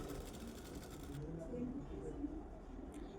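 A sewing machine stitches the lining of a blouse, a steady close mechanical whir that runs unbroken throughout, with someone speaking over it.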